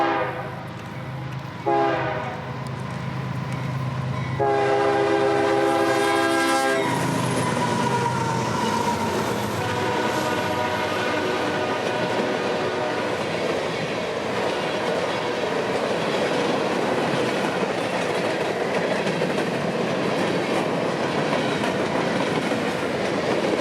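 A freight train led by three EMD locomotives approaches on a Georgia main line, sounding long loud horn blasts near the start, then a heavy continuous roar of engines and rolling cars with wheel clatter and squeal as it passes close by.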